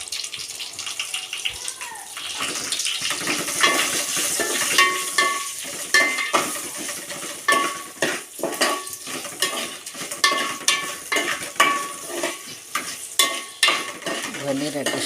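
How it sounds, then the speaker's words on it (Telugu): Ingredients fry in oil in a pan with turmeric added, giving a steady close sizzle broken by repeated scraping and stirring strokes, with no talk. "ఇప్పుడు ఇవన్నీ కూడా మనం ఫ్రై చేసుకుందామండి"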